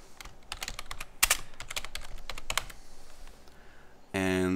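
Quick bursts of keystrokes on a US-layout computer keyboard as a name is entered during an Ubuntu virtual machine install, close and clear with short pauses between clusters, ending in a steady electronic tone.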